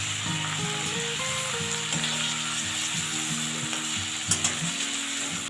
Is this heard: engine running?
no